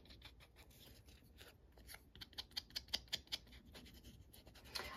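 Scissors snipping paper for a junk journal, a quiet close series of crisp rhythmic cuts that grow sharper and more regular midway, with soft rustling between them.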